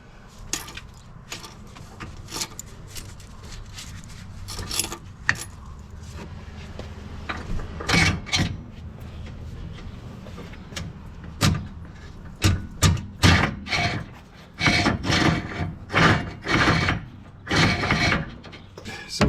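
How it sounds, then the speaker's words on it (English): Winch cable on a Polaris General XP is pulled out on free spool, giving irregular clicks, ratcheting clatter and metallic rattles that grow busier and louder toward the end, close by. "free spooling this winch out, getting the cable extended"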